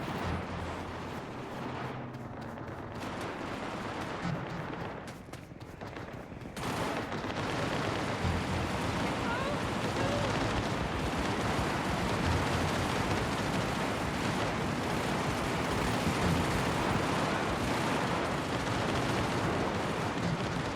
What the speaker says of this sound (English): There's a gunfight going on somewhere. I can hear gunshots.